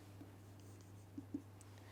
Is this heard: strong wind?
no